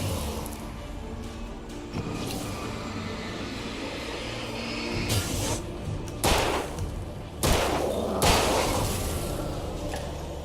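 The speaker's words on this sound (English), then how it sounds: "I see you shooting at me from behind." Gunfire in the video game Alan Wake comes as several sharp, loud bursts over a dense, rumbling ambient bed, with the heaviest shots clustered toward the end of the clip.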